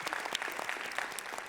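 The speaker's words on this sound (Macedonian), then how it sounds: "Така што еден аплауз за вас." An audience at a live storytelling show for International Women's Day gives dense, steady applause: many hands clapping close together, fairly near and without pause.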